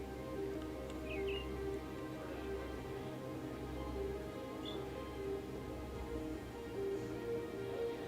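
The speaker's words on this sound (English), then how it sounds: "Oh, I hear birds." Birds chirp in the ambient soundscape of a meadow with a small pond in the video game The Great Circle, several faint scattered tweets over a soft steady background hum.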